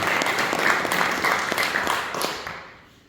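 A press conference audience at Belfast's Ulster Hall applauds the event sponsors, with a few seconds of dense, steady clapping that fades out at the end.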